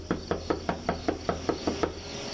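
Police officers knocking hard on an apartment door: eight loud, forceful raps in a steady, even rhythm, close by, with no talk over them.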